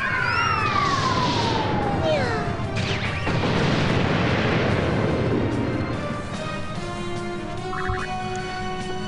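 Cat cries and yowls from Saber Cat attacks in the video game Disgaea 3, with sliding meow-like tones over crashing battle effects, loud and continuous with game sounds throughout.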